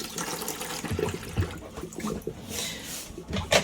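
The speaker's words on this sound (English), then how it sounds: "just showing that the hot water system's working there as the water is getting up the temperature there" Hot water runs from a tap fed by the hot water system in a Bailey Advance 76-4 caravan, a steady close splash and trickle with small clatters, no talk.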